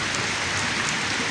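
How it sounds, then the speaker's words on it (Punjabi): Rain falling with strong wind over village crops and trees, a dense, steady hiss of rainfall close by with no voices. "ਤੇਜ਼ ਹਵਾ ਨਾਲ ਬਾਰਿਸ਼ ਹੋ ਰਹੀ ਹੈ।"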